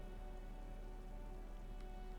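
Steady rainfall in the game Disco Elysium, a soft continuous patter on surfaces with no voices over it.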